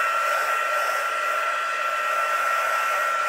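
Heat tool blowing steadily to dry wet paper before embossing, a continuous loud whirring hiss without a break, close by.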